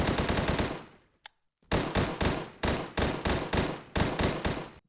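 Rapid automatic fire from an AN94 rifle in the video game Phantom Forces: a long sustained burst, a brief pause, then repeated short bursts of loud, crisp shots in steady rhythm, close and alone.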